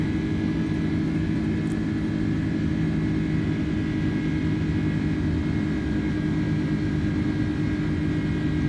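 Airliner engines spooling to climb power in Microsoft Flight Simulator, an American Airlines A310 out of JFK, a steady moderate jet roar with a faint whine throughout.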